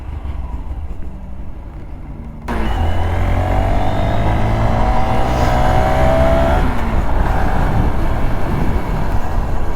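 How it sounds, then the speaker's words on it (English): A Honda Grom minibike at a local stunt show, snapping from quiet into a loud, close rev that climbs in pitch and holds as it rips wheelies, with crowd and track noise behind. "I see a Grom ripping wheelies"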